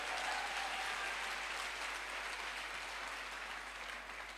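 A crowd gives a sustained, dense round of clapping for a speaker at a stage event, steady and loud throughout and slowly easing off toward the end.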